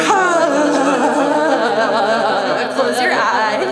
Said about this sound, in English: as you exhale, you're gonna allow the movement of your body to vibrate your exhale